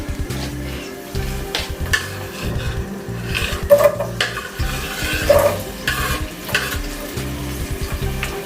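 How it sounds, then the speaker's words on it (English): Onions fry in hot oil in a pan for pumpkin soup, a continuous close sizzle with scraping and stirring of the pan throughout. "So put some oil there. Once it's hot, we're gonna cook our onions for like 5 minutes"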